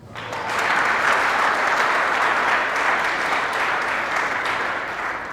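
A church congregation breaks into sustained, loud applause that swells quickly and holds steady, dense clapping from many hands filling the room.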